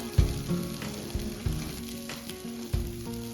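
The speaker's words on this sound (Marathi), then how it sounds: "पेस्ट करायचा तो तेलामध्ये सोडून द्यायचा त्याला थोडा वेळ परतून घ्यायचा" Masala paste fries in hot oil for a matar paneer curry, giving a steady close sizzle broken by several louder stirring scrapes and bursts.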